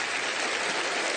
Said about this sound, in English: Let's all give Tony one big round of applause as he takes his seat